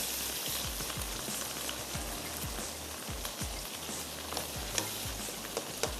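Masala and tomatoes roasting in a pan and stirred continuously: a quiet, steady sizzle with repeated soft scraping strokes of a spoon in an even rhythm, no voices.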